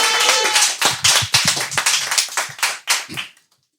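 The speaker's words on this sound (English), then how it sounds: "Let's give a big round of applause to our next comedian, Anjali Desai." A live comedy show audience claps to welcome a comedian on stage. The loud, close applause starts dense, thins into distinct separate claps and fades to silence near the end.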